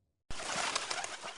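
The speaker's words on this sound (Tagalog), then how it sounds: "Kalapati." After a brief silence, a cartoon pigeon in a Filipino animation gives a loud, close, breathy coo that holds steadily for just over a second.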